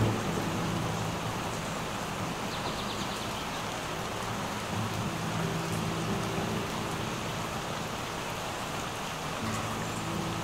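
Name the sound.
light drizzling rain, animated cartoon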